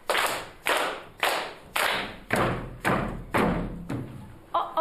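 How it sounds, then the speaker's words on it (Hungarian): Children in a Hungarian primary maths lesson clap and knock out a number in unison, giving about eight evenly spaced, sharp thumping beats close by with a short break near the end. "Tapsold, és kopogd el."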